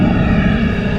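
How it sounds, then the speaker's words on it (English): A camera drone flying over a quiet wedding ceremony gives off a loud, steady, close buzzing drone of whirring propellers, like a hairdryer in a tin shed, with no break for the full second. "your drone sounds like a hairdryer in a tin shed"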